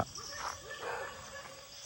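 A single dog gives a couple of short barks and yips at night near a temple, fairly distant against a quiet background hum.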